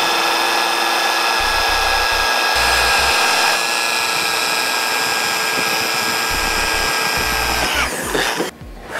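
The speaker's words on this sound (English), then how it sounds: "we're gonna go ahead and have to drill holes out to mount this into place" Power drill boring mounting holes into the frame of a 2007 Chevrolet Silverado pickup during a trailer wiring harness install; a steady, close, high motor whine runs for about eight seconds, then cuts off, with no talking.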